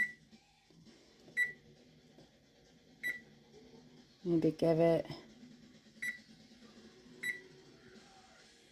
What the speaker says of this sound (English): So I think I'll just use my stove timer for a minute.